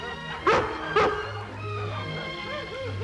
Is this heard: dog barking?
yes